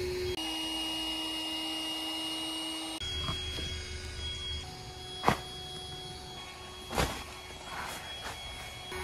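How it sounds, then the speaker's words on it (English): An electric air pump inflating an air bed inside a pop-up glamping tent, a steady motor whine holding for several seconds before changing pitch, with a few louder clunks and knocks breaking through near the end. "So that bed's nearly pumped up now"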